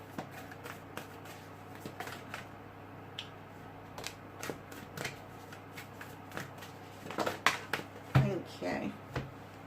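Close, quiet riffling and clicking of tarot cards being shuffled, irregular soft snaps that build into louder clustered flicks near the end, with a voice speaking at times.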